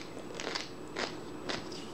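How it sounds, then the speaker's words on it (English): Crunchy bites into the thick chocolate-caramel coating of a Magnum Double Caramel ice cream bar, three sharp crackling crunches about half a second apart, close and fairly quiet with no talking. "the coating is very thick and obviously very crunchy when you bite into it"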